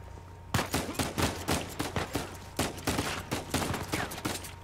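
Rapid bursts of gunfire in the Uncharted 4 video game, a dense string of loud close shots in irregular clusters crackling through the whole stretch, with no voices over them.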